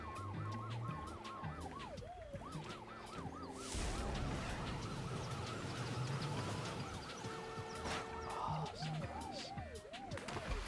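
An ambulance siren in a video game wails in repeating rising and falling sweeps over a game soundtrack and a low engine rumble, fairly faint throughout.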